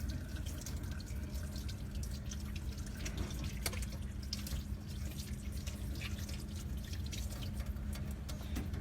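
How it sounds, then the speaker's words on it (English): Running tap water pours steadily over hands being rinsed at a sink, a continuous close splashing wash with dripping, no voices. "I'm going to rinse my hands."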